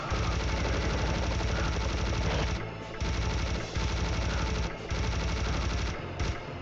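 Rapid, sustained chain gun fire in the Serious Sam: The First Encounter shooter, a dense mechanical roar running loud and continuous with a few brief breaks between bursts.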